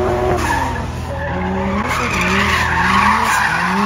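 A drift car skidding with loud, continuous tire squeal and a roaring engine at a drift event, the wavering screech rising and falling close by without pause.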